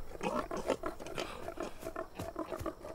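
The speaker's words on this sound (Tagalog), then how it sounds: "iwasan na lang natin yung mga baboy na yon" Pigs in an animated cartoon grunt and snort in a rapid, irregular series, close and fairly quiet, with no speech.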